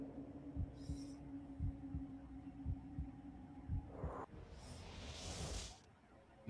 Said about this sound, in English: I can feel the heartbeat in my head here.